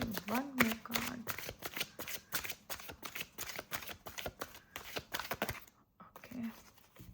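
Tarot cards are shuffled and drawn close up, giving a rapid run of crisp riffling flicks and card slaps for several seconds with a brief pause near the end, while a voice talks over them.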